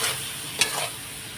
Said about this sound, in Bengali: তো এখন আমি নাড়াচাড়া দিয়ে নেব